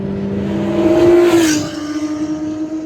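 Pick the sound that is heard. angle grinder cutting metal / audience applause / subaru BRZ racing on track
subaru BRZ racing on track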